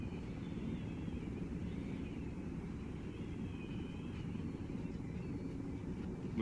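An enemy helicopter in Arma 3 drones steadily in the distance, a constant low engine rumble with a faint wavering whine that holds for several seconds without talk.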